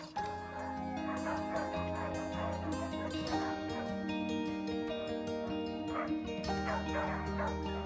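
Twenty-plus rescue dogs bark and yip continuously over a dense, busy background, with overlapping calls throughout.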